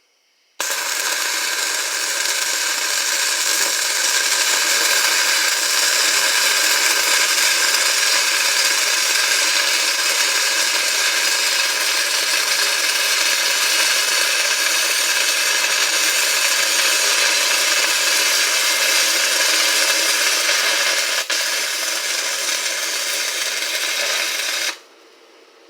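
Grinding a welding project made with E6022 rod: a loud, continuous, hissing grinder whine held steady for about twenty-four seconds, starting and stopping abruptly, close by, with no talk.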